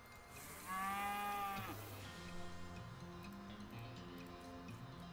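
A cow moos loudly once in West of Loathing, a long low bellow over steady background game music that continues alone afterward.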